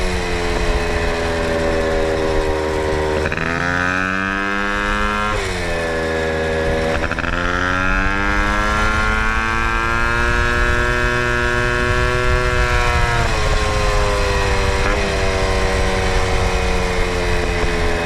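A 1979 Honda PA50 moped's small engine revs hard while being ridden, its buzzing pitch climbing, dropping and climbing again over a long, loud, continuous stretch with no talking.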